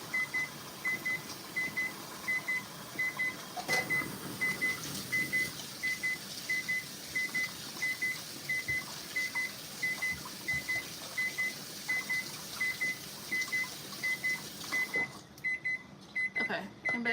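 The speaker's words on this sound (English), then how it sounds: "Let's wash these and turn off that timer." A kitchen timer beeping in a home kitchen, short regular pairs of high beeps repeating steadily and fairly faintly over a background hiss, with a few clatters between them.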